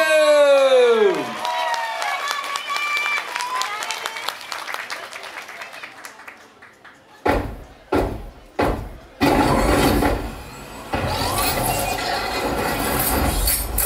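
After a stretch of gliding, whistling tones that fade out, a dance-showcase audience breaks into applause, first in a few sharp bursts and then in loud, sustained clapping and crowd noise.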